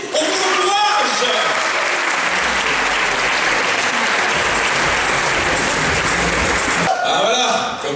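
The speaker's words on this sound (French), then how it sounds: "on vous applaudit, on vous encourage." Studio audience at a Miss Rouen 2017 pageant quiz breaks into dense, sustained applause for several seconds; a voice speaks briefly at the start and again as the clapping fades near the end.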